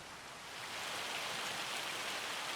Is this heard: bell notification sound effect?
no